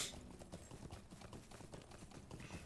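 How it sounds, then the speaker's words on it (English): Horse riding in Lord of the Rings Online, steady rhythmic clip-clop of hooves on a trail, faint and continuous without speech. "you're looking at a 5+ minute horse ride"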